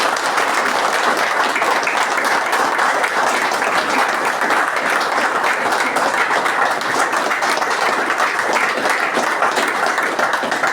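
A group claps loudly and continuously for Harjan at a sobriety recovery session, a thick, even roar of many hands lasting the whole stretch with no voices on top.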